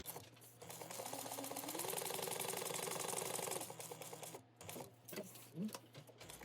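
A sewing machine stitches around a small box drawn on the back of a Hello Kitty bag, giving a steady, rapid mechanical whir for a few seconds before stopping, followed by quieter handling and brief starts.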